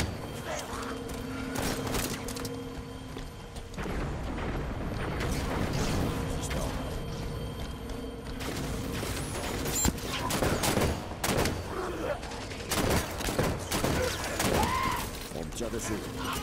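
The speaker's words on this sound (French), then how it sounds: "On me tire dessus." Gunfire rattles through a Halo game battle, with repeated bursts and scattered shots over a continuous background of combat noise.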